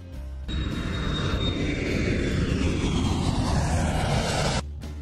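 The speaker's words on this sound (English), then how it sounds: "Jet." A jet aircraft engine roars loudly and steadily for about four seconds, a broad sustained rush with a high whine, starting and stopping abruptly, with no voices.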